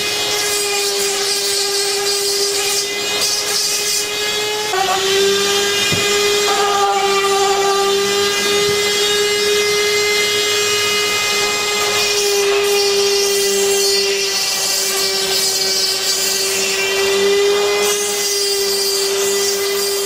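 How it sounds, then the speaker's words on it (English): A handheld Dremel rotary tool grinds the sharp edges off cured fiberglass rocket booster segments, a loud continuous high-pitched whine with steady tone and small pitch shifts as it bites into the material, close up and without talk. "we use a Dremel tool to remove any sharp edges and neaten up the ends"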